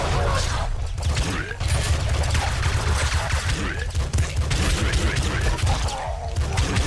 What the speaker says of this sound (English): he shoots a lot of bullets just like that